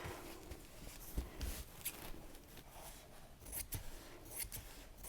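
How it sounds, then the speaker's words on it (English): Sharp scissors cut through cheap lining fabric in a run of quiet, crisp snips and soft slicing rasps, spaced irregularly against a faint background. "Once again, nice sharp scissors are very handy."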